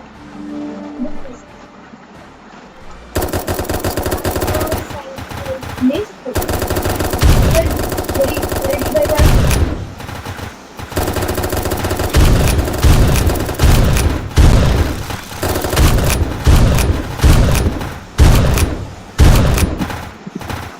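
Automatic gunfire in the zombie shooter game Zombie Rush, with dense rapid bursts and loud booms repeating through most of the stretch after a quieter opening, with occasional speech.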